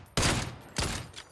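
Two loud gunshot bursts ring out in a battle-royale shooter match, each a sharp crack with a short decaying tail, spaced about half a second apart.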